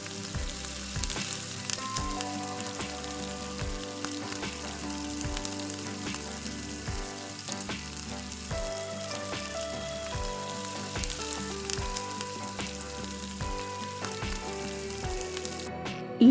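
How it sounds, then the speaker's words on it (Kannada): Byadgi chillies and tomatoes fry in a pan for onion dal sambar, a steady, even sizzle running throughout with a regular thumping beat of music underneath and no talk. "ಇದನ್ನು ಸಹ ಹಸಿ ಸ್ಮೆಲ್ ಹೋಗೋ ತನಕ ಚೆನ್ನಾಗಿ ಫ್ರೈ ಮಾಡ್ಕೊಬೇಕು"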